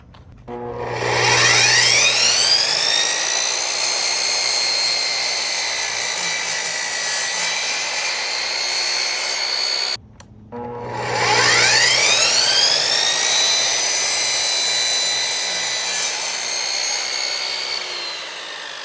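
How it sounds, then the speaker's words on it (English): A DOVAMAN miter saw spins up with a rising high whine and cuts through wood in a loud, sustained screaming pass, then stops briefly before a second identical cut. "So I'm very impressed with the DOVAMAN saw, the stand, as well as the circular saw."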